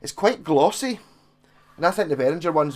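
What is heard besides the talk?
None of the usual background noises is heard.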